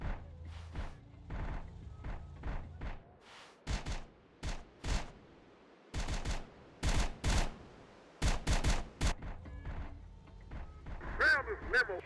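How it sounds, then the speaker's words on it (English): Distant gunfire crackles from a cartel training camp across a railway in Terminator: Dark Fate - Defiance, arriving as scattered bursts and single shots at moderate distance, with a faint bird caw near the end. "Gunfire on the other side of the railway."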